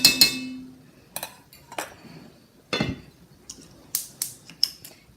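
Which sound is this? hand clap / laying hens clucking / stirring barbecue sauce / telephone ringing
stirring barbecue sauce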